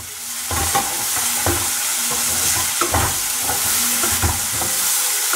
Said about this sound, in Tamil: பச்சை மிளகாய், வெங்காயம், தக்காளி, இது எல்லாத்தையும் ஒன்றாவே நல்லா வதக்கிக்கலாம்.